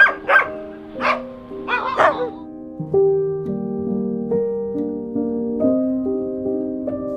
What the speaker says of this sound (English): As you can see, there are some dogs here.